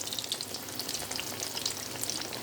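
Pieces of homemade fish fry crackle in hot oil in a pan, a dense, even sizzle full of fine pops with no talking.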